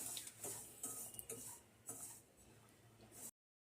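Semolina (rava) stirred and roasted in a pan over a low flame, with light scraping and clinking of a spoon against the pan in short, irregular strokes, close and fairly quiet.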